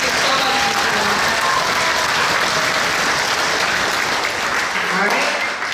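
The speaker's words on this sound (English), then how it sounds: "Let's give my friends, Mr. Wellens, another round of applause." Audience at a middle school concert applauding, dense and loud clapping sustained throughout with crowd noise mixed in.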